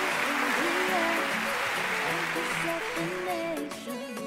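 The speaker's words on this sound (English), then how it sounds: "a round of applause for Cynthia." Audience applause fills a pageant hall at the Mrs. India Empress of the Nation 2021 finale, a steady wash of clapping for the full stretch, with music and voices running beneath it before it thins slightly near the end.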